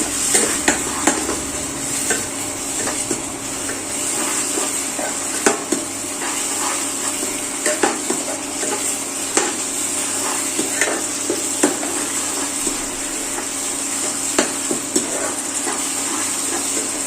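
Tomato paste frying with ginger and garlic in a pan, a constant sizzle broken by frequent scraping and tapping strokes of a stirring spoon, close and steady.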